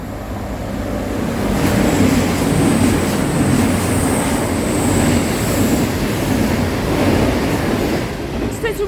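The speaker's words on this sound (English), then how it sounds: "following through now, we have a cross-country Voyager" A Cross Country Voyager train passes through Eastleigh station on the South West Main Line, a loud, sustained rumble of wheels and engine close by with a faint high whine, steady for the whole stretch with no talk over it.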